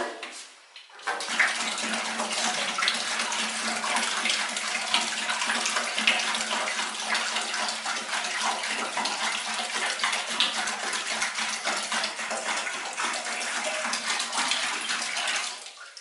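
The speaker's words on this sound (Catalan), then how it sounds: "Ficam l'aigua, 5 litres." Five litres of water pour steadily from a tap or container into a vessel for making soap, a loud continuous gushing splash that runs alone for about fifteen seconds.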